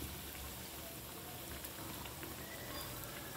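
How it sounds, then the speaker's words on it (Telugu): Lentil and amaranth vadas deep-frying in hot oil give off a faint, even, bubbling crackle that holds steady throughout with no speech. "చూసారు కదా ఎంత బాగా వేగుతున్నాయో"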